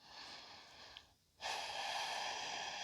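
A slow nasal breath in during a yoga Sphinx pose, soft and close, followed by a brief pause and then a steady, airy inhale or exhale.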